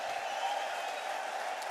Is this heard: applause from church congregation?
yes